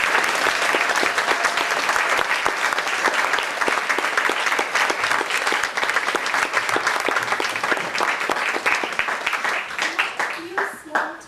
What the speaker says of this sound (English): we'd like to give them a huge round of applause